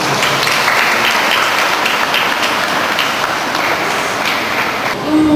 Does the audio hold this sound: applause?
yes